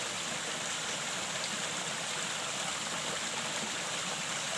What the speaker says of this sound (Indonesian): air mengalir dari aliran gunung.